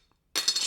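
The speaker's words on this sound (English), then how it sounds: "That is the sound of cheap plastic right there" A cheap plastic fake GameBoy keychain rattles and clinks close by, a busy clattering burst that starts abruptly after a moment of silence and keeps going.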